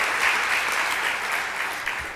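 Dense applause from a big conference audience in a general session hall, sustained and loud for the whole stretch, with a faint murmur of voices beneath the clapping.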